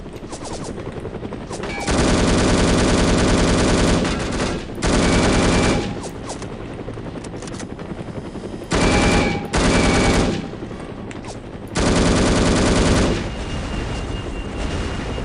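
Automatic weapon fire in the shooter video game No One Lives Forever, loud sustained bursts of rapid shots separated by short pauses over a steady background hum.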